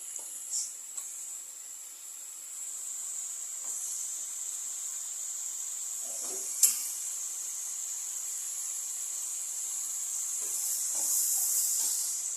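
Brinjal pieces sauté in a pan, giving a steady, soft high hiss of sizzling that runs throughout with a few faint crackles and a brief louder pop midway, without any talking.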